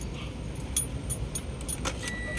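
The keys of a Toyota Vios that will not shift into drive jingle in a series of light metallic clinks and rattles, close and fairly soft over a low background hum.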